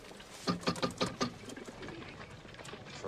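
Pigeons cooing nearby, a quick run of soft, low, throaty pulses followed by quieter murmuring coos.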